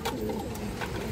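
Pigeons coo softly and steadily from a nearby loft of large-headed birds, a low murmuring layer with a few brighter accents and no talking over it.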